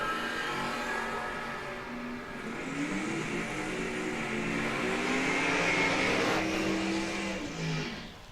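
A drag race run between a 2002 Chevrolet Blazer and a Nova: engines roar at a distance, rising and falling in pitch as the vehicles accelerate down the strip, a steady loud drone that fades near the end.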